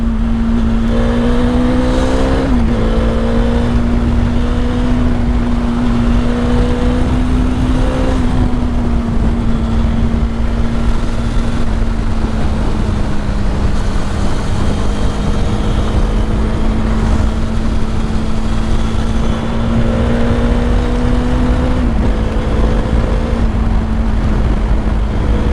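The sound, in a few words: motorcycle engine riding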